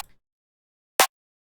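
One short, sharp snare hit cracks out of near silence, bright and snappy with a very quick decay.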